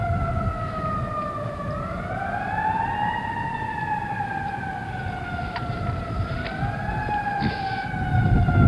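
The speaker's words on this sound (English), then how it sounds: "It's a fire engine or an ambulance of some sort." A fire engine or ambulance siren wails with a slow rising and falling pitch, fairly close and steady, over a low rumbling traffic background.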